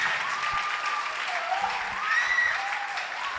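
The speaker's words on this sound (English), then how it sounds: "Don't stop clapping." Sustained audience applause fills a hall as a guest speaker is welcomed at a church conference event, a dense steady wash of clapping with faint voices mixed in.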